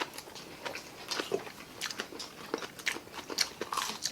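Crisp bites and crunchy chewing on raw bell pepper during a meal, a few close, sharp crunches spread irregularly over a few seconds with soft mouth noises between.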